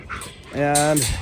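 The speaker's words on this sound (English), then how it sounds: "we lock up the dogs at night just so they don't get in trouble, and you can tell they're anxious to get out" Locked-up dogs penned for the night on a farm give a short, rising whimper close by, a single plaintive whine lasting about half a second, right after someone speaks briefly.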